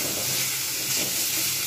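Cauliflower, potato and bori curry fries in oil in a pan with a constant close sizzle, an even hiss with light crackling throughout.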